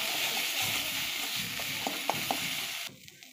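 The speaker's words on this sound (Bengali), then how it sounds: "ভালো করে কষাবো।" Spiced palak and soyabean stir-fried in a pan with salt, turmeric, cumin and coriander powder, a steady close sizzle with a few clinks of the spatula, fading near the end.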